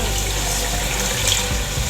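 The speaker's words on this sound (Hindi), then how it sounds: "1 गिलास पानी ऐड कर देते हैं" Water from a glass poured into chicken kofta gravy in a pan, a steady splashing pour that runs close and loud for the whole stretch with no talk over it.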